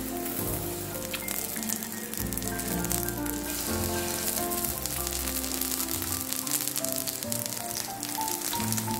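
Fish frying in olive and soybean oil, a dense continuous sizzle with crackling spatter like rain on a surface, close and steady throughout, with faint music underneath.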